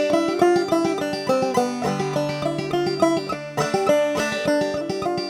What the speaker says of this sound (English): And with a double thumbing pattern, it becomes.